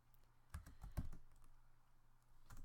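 Computer keyboard typing of a new folder name, a quiet cluster of quick key clicks with a few more keystrokes near the end, with no voices.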